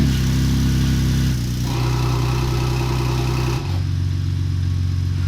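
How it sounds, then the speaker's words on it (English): Ford Raptor, a 2017–2020 truck fitted with a Valvetronic exhaust, starting from cold: a steady, loud, deep idle rumble runs throughout, with a shift in tone partway through as the exhaust mode changes. "fire up the truck, and it is gonna be a nice cold start."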